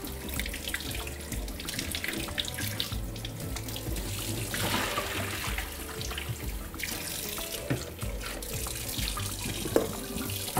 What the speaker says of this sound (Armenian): Եվ հոսող սառը ջրի տակ սառեցնում ենք, որպեսզի եփը կանգնի